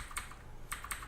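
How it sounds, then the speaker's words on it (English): Clicky computer keyboard typed on during a game stream: a few sharp key clicks in two short clusters, faint and close, with no talk. "This guy has a clicky keyboard."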